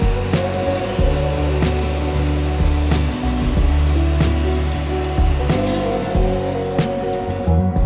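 Forstner bit boring into wood with a dust extractor running: a loud, steady mechanical roar and hum, broken by short surges and dips as the bit bites, continuing close throughout.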